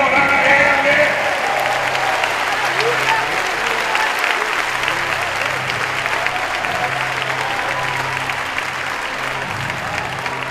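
Sustained applause from a church audience at a Christian youth conference, a dense, steady roar of many hands clapping that fills the whole stretch at an even, loud level.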